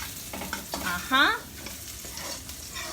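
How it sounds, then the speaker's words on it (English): Rice and ingredients for arroz chaufa fry over high heat, a continuous sizzle broken by stirring scrapes and one brief, bright rising squeal, close by with no talking. "We have to just leave it there to fry."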